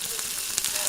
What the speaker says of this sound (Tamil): ஆயில் ஊற்றி பொரிச்சிக்கலாம்.